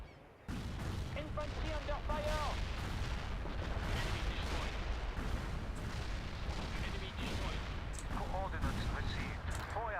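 Rocket barrages and booming gunfire from the video game Conflict, a dense continuous wall of explosive rumble with crackling bursts throughout, while someone talks over it.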